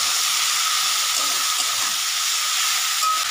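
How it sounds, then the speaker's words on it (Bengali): Potatoes and snake gourd sizzle steadily in hot oil, a close, continuous frying hiss with no speech. "তেলটা গরম হয়ে গেছে, কেটে রাখা আলু আর চিচিঙ্গাটা দিয়ে দেব।"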